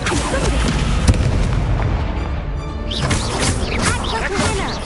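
Confringo fire spells blast repeatedly in the game Hogwarts Legacy, with loud booming bursts and crackling impacts layered over combat clutter.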